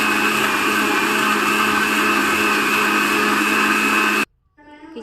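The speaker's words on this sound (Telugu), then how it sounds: "ఈ మంచి మిక్సీ పట్టుకొని ఈ జ్యూస్ ఇలా రెడీ చేసుకోవాలి" A mixer grinder blends beetroot juice with a loud, steady, close-up whir that runs without a break and then cuts off abruptly just before the end.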